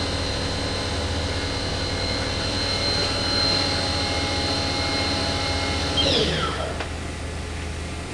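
A Haas VF2 vertical machining center with a 2-speed gearbox runs its spindle at high RPM, giving a steady whining tone that holds and then winds down near the end.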